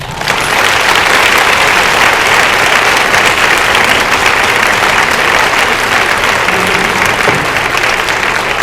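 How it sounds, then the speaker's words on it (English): Loud sustained audience applause for Natasha at a New Year event, dense clapping that holds steady throughout with a faint voice briefly audible beneath it. "let's just give Natasha another round of applause."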